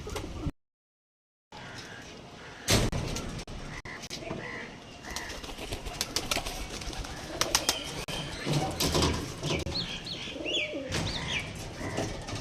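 Young kalshira and fulshira tournament flying pigeons coo and chirp in a loft, soft calls repeating close by, with bursts of flapping and a person talking intermittently.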